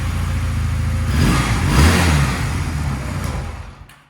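A Honda Rebel 250 motorcycle engine, warmed up, starts and revs, rising to a loud mid-pitched roar before settling and cutting off near the end.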